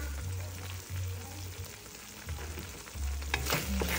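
Garlic and a little onion sautéing in a hot pan, a steady loud sizzle with stirring scrapes throughout and a low hum underneath.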